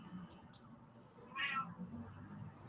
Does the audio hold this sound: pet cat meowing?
yes